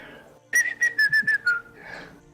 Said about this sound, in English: he's whistling away